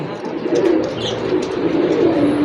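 Racing pigeons coo softly in a loft, a low continuous murmur of overlapping burbling calls, close by with a faint chirp or two above.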